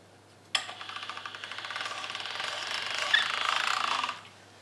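Fresh pasta dough fed through a hand-cranked pasta machine's rollers at the widest setting, giving a close, rapid series of small pops and clicks that builds into a steady rattling run for about three and a half seconds, then stops.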